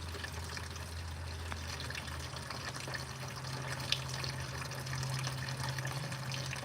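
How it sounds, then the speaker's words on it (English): Water drains steadily from a truck engine in a constant, fairly quiet rushing trickle that carries on without a break. "I should let that water go, shouldn't I?"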